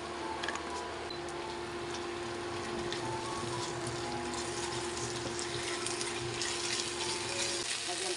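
Half a cup of water is poured into a pot of chicken afritada, a soft steady trickling and gushing that runs continuously at low level, close by, with faint background hum.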